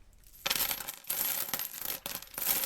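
Loose change coins dropping and clattering in several bursts, with metallic jingles and a pause between each handful, close and fairly loud with no talk.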